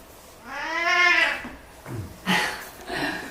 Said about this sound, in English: We have little friends here tonight, little kitty.